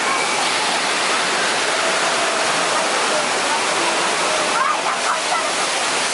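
On a Universal Studios tram ride, water splashes and pours down in a loud, continuous roaring rush close by, with faint voices briefly audible near the end.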